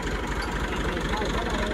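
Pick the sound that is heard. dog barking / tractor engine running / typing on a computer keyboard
tractor engine running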